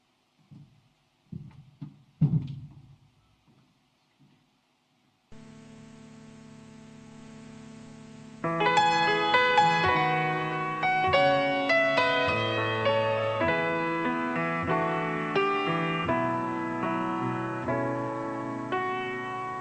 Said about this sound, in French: On écoute un chant tout à fait particulier que vous avez peut-être jamais entendu.